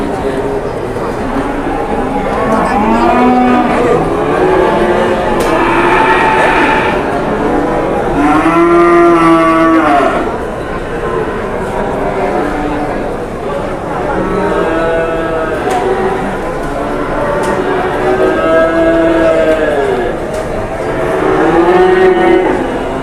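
Several huge beef cattle of around 800 kg at a busy livestock market moo repeatedly in long, drawn-out calls, some near and loud, over steady crowd chatter and people talking.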